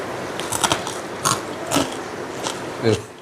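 Crunchy fried dried anchovies (nethili fish) bitten and chewed close up, sharp crisp crunches arriving in bursts at an irregular pace, with a voice faintly present.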